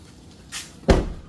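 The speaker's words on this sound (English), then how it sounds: "So if I close it now, let's see here. Should close, we should turn off the light." A light click and then a solid thud as the rear cargo door of a Toyota RAV4 swings shut nearby, a single closing sound in an otherwise quiet space.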